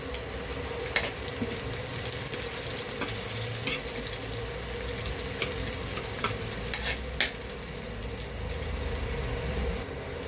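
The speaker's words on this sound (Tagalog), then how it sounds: "makulak-kula na ating bawang, ating sibuyas" Garlic and onion sizzle steadily in a hot pan for a fish escabeche, with a constant frying hiss, a few sharp clinks of a utensil against the pan and some faint water sounds in the background.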